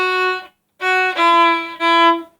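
Bowed string instrument playing short eighth-note strokes separated by clean rests, bow stopping between notes, three close, clear notes with silence between, no talk.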